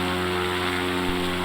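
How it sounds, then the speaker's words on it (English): Cub Crafters X-Cub light aircraft propeller engine running at the runway before takeoff, a loud steady buzzing drone with strong even harmonics, close and uninterrupted. "we're here ready for a little flight to Carmel Valley in the X-Cub"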